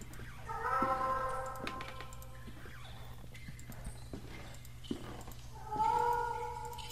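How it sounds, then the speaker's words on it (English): A cat meows a few times at moderate distance amid the video game The Last Door's ambient background hum, with a louder meow near the end. "Cat's meows louder in here."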